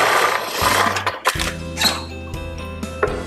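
Sewing machine stitching a seam on a ladies suit, attaching at the center point; short bursts of motor hum and rapid needle clatter, starting and stopping, close up.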